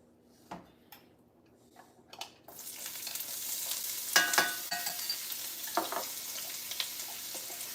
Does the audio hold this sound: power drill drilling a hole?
no